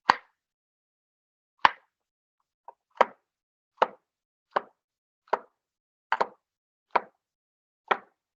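Knife chopping food into one-inch pieces on a cutting board: nine sharp, separate cuts spaced roughly a second apart, close and clear with silence between them.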